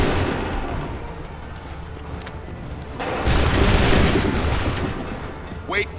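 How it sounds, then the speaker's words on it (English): Musket volley fire in the Assassin's Creed 3 Battle of Bunker Hill: dense crackling gunfire over a constant battle din, swelling into a louder, heavier volley midway. "Prepare yourselves. Open fire."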